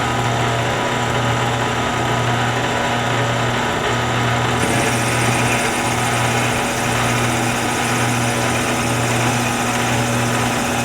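A wooden pen blank being drilled on a woodturning lathe, a loud steady motor drone with a constant hum and faint grinding as the drill feeds in and backs out, with no talk.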